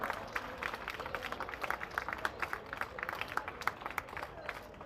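An audience at the Aadudam Andhra opening ceremony in Anakapalli district claps for the winners, a dense patter of many hands sustained through the moment at a moderate distance.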